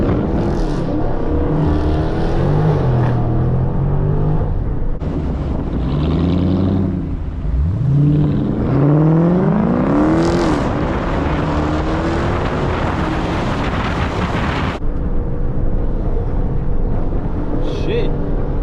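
A Dodge Charger Scat Pack 392 accelerating from inside the cabin, the engine droning and rising in pitch through gear pulls, loud and close amid wind noise, with someone talking over it.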